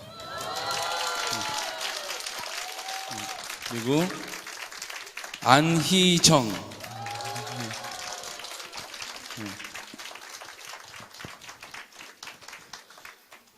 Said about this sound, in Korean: 이분은 더 크게 박수 좀 주겠습니다